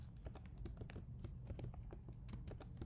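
Quick, quiet keystrokes patter on a computer keyboard as code is typed in an uneven stream of light clicks.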